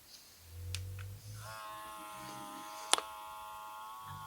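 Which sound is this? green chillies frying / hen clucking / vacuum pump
vacuum pump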